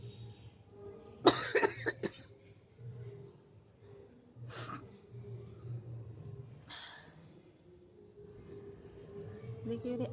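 A person coughs several times during a sneezing challenge, with harsh close bursts and throat noise spaced out over low room rumble and soft breathing, and a voice speaks briefly.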